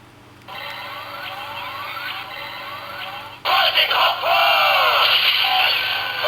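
Repeating electronic rising sweeps from a toy transformation belt, then a sudden louder blast of layered synthetic effects with a garbled electronic voice.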